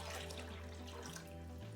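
Water poured from a container into a bowl, a short, faint, continuous splashing trickle lasting under two seconds.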